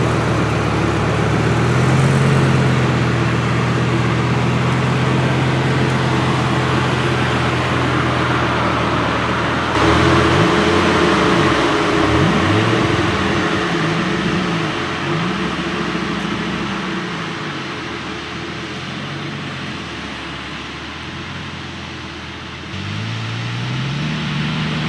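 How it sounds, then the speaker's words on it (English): A Lamborghini drives through a snowstorm in Summit County, Utah. A steady, loud engine drone and road rumble carry through the cabin, with low rising and falling engine tones from about the middle onward and no talk. "What an incredible day driving the Lamborghini"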